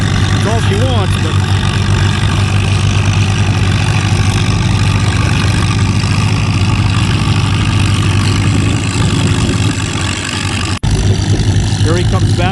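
An antique red International 300 tractor engine pulls a plow at a field plow day, a loud steady low throbbing drone close by, with voices talking over it.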